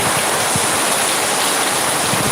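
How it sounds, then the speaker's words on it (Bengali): Heavy, continuous rain pours down in a dense, unbroken roar that fills the whole stretch, loud and close with no pauses. "সকাল থেকে একটানা বৃষ্টি হইতে আছে একটানা বৃষ্টি আর বৃষ্টি"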